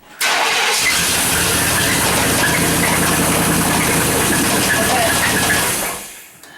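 Chevrolet Suburban engine running loud and steady for several seconds, a dense broadband roar with a rapid underlying pulse, then cutting off.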